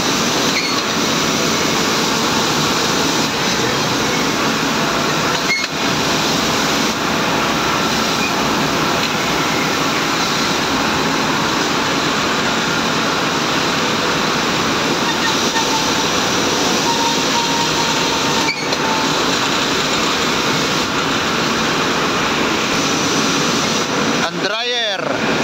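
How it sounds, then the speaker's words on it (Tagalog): A horizontal dryer for hardening pressed tiles runs with a steady, loud mechanical roar and broadband hum throughout, a few brief knocks breaking in, with a voice speaking over the machinery. "Horizontal dryer."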